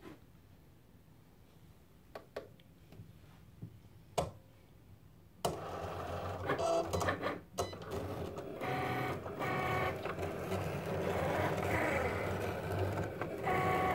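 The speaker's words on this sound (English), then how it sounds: "And then you're ready to hit your Cricut button and start your cut." A Cricut cutting machine working through pebbled leather starts up after a few faint clicks, then runs steadily with a loud, continuous mechanical whir and clatter from close by, broken by brief pauses in its motion.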